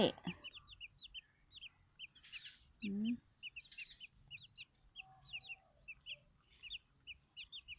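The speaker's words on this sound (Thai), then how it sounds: "ไก่ซิลกี้" Silkie chickens clucking and peeping in quick, repeated high calls, fairly close and soft, with one lower squawk partway through and no talk.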